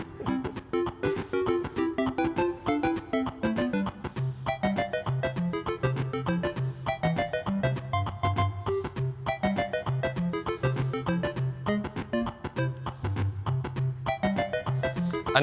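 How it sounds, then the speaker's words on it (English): Chiptune-style 8-bit electronic song coded in Ruby with Sonic Pi, played continuously at steady loudness: bright square-like melody lines over a bass line, with a hissy noise-channel drum beat ticking throughout. "it sounds like an 8-bit computer from the olden days"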